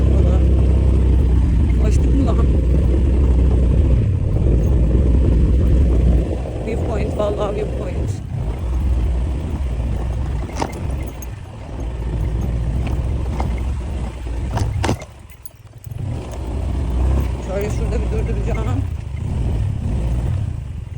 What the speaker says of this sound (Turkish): şu motor sesini keselim.